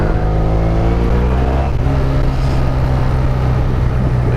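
A 1993 Yamaha TDM850 motorcycle engine running close by, a loud, steady low rumble with a deep throb and no talk over it.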